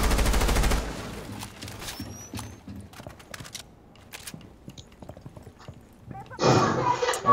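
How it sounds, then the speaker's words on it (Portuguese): Gunfire from the operator Ash's weapon in the video game Rainbow Six Siege: a loud opening burst, then scattered sharp shots and clatter of varying loudness, with another dense loud burst near the end. "Escuta a arma da Ashe atirando."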